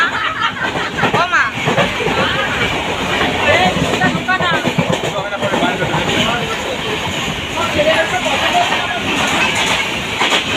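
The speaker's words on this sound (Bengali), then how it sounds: "এই যে এখন আমরা বাড়ির জন্য ট্রেনে উঠে পড়েছি।" Inside a moving passenger train on the way home: a constant loud rumble and rattle of the carriage, with people talking nearby over the noise.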